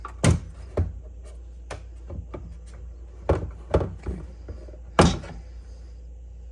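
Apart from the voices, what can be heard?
microwave door being removed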